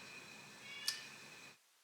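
An indoor house cat gives one short, faint meow in a quiet room, with a low steady background hiss before the recording drops to silence.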